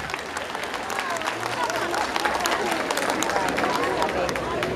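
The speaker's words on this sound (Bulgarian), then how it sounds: "Харесват ли ви аплодисментите? Хайде да ги чуем." Audience applause at a Bulgarian children's folklore show on stage, a dense, continuous wash of many hands clapping throughout, steady and full, with faint crowd murmur underneath.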